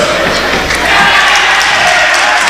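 At a girls' varsity basketball game in a gym, the home crowd erupts in a loud, sustained roar of shouting and jeering at an official's call, a dense wall of voices throughout.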